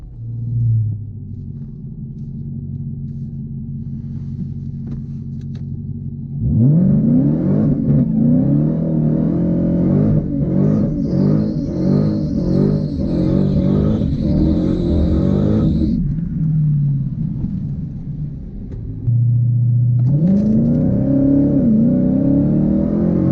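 A 2020 Shelby GT500 idles with a deep rumble, then launches hard down a drag strip on a test pass, its engine roaring loudly through rising gear pulls before dropping back to idle and revving again near the end.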